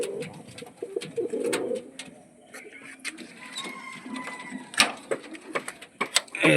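Fancy heavy booted lakkha pigeons with trimmed foot feathers coo softly at rest, low burbling calls repeating close by, with scattered clicks and taps and a voice briefly audible.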